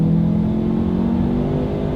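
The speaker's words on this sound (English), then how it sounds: "let's do a quick little acceleration and let's see how quickly we can get the new 2020 Lincoln" A 2020 Lincoln Nautilus accelerates, its engine rising in a smooth, steady drone heard from inside the cabin, loud and continuous with no talking.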